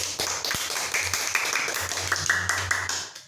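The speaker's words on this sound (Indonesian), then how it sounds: "Tepuk tangan untuk semua kelompok." Pupils clap together for all the student groups at the end of an online teaching-practice lesson, a quick patter of uneven claps with tonal background hum.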